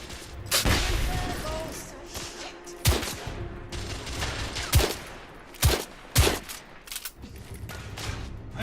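Gunfire in The Order: 1886 video game: several sharp, loud shots spaced irregularly over a rumbling battle ambience, with faint voices underneath.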